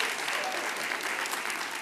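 Steady applause from an audience at a Fall Fest speaking event, dense and even for the whole stretch, with no pause and no speech over it.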